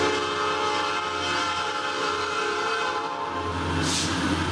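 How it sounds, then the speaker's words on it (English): A train passes close by, its steady loud rumble and rail noise filling the clip with a sustained tonal horn blast running throughout and a brief hiss near the end. "there was the train."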